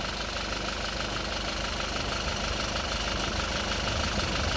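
Toyota Innova Crysta engine idling after carbon cleaner injection, a steady close mechanical hum with a faint knocking texture, unchanging and alone.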